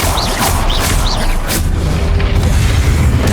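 A Confringo fire spell bursts in Hogwarts Legacy, loud booming impacts with a dense rumbling low end and a few sharp magical whooshes early on, sustained and heavy throughout.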